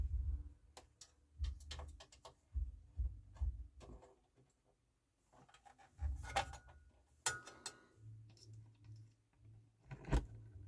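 Disc drawer mechanism of a Marantz CD-63 mkII CD player loading a disc, heard as a series of close mechanical clicks, ticks and whirring motor movements spread over several seconds in a quiet room.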